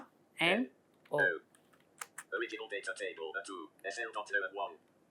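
Quick runs of crisp keystrokes clatter on a computer keyboard as text is entered into an Excel spreadsheet, following a couple of short, louder sounds at the start.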